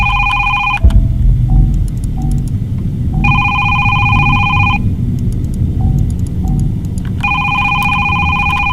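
A telephone rings in the horror video game Is Simon there?, loud electronic double-tone rings repeating in three long bursts with pauses, over a low rumbling game ambience.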